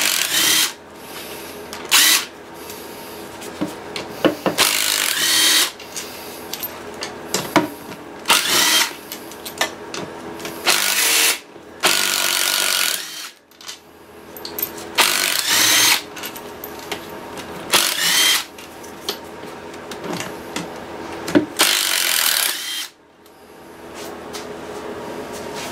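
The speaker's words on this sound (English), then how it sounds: "There is 7 10 millimeter bolts in here holding it on. We'll go ahead and rip those right out." Power tool, likely an impact wrench, removing seven 10 mm bolts from the front pump of a 4R70W transmission during a teardown, with loud repeated bursts of whirring and rattling separated by brief pauses.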